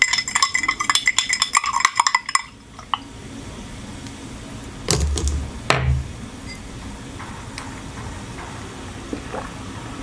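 A spoon stirs vitamin C powder into a drink, giving a few soft clinks and swirling liquid sounds, close and fairly quiet, with no talking.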